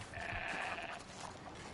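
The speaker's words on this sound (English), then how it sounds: "Goat!" A single goat bleats in the Horizon video game, a short, wavering, nasal cry heard close and clear for under two seconds.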